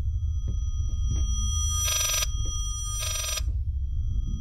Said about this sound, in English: That is the worst ringtone I've ever heard.